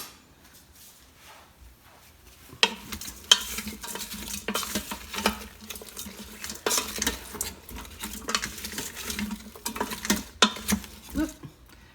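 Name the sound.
stirring shrimp boil in an Instant Pot with a spatula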